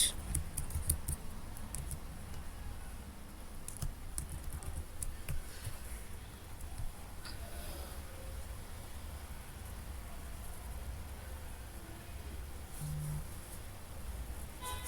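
Someone types a password on a computer keyboard: a quiet, steady run of soft key clicks over a low background hiss, with no talking.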